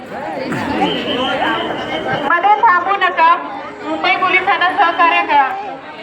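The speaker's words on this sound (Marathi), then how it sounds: "भयंकर स्वरूपाची गर्दी आहे" Dense chatter of a huge crowd gathered at Chaitya Bhoomi in Dadar, Mumbai, on Ambedkar's death anniversary, many overlapping voices close and loud, with nearer speech rising above the steady hubbub.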